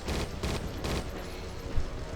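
Gunfire in the video game Judge Dredd: Dredd vs. Death, dense rapid bursts of shots pulsing in quick repeated volleys under a steady loud background, with no talking.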